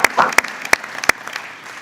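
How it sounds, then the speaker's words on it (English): Applause from a congressional committee room during a defense bill markup hearing: a handful of sharp, separate claps ring out over a softer patter, close and fairly loud, lasting under two seconds. "give the staff a round of applause"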